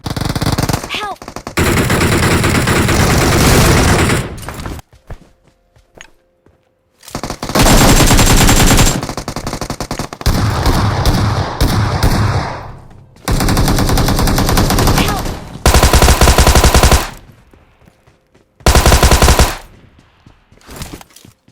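Automatic rifle fire in the battle game BGMI, long loud bursts of rapid shots lasting several seconds each, broken by short silent gaps, close and dominant.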